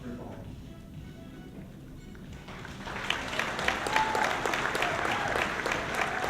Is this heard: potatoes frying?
no